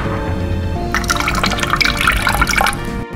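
Water and lemon juice pour into a container for homemade lemonade, a close, continuous splashing trickle that swells midway before easing off.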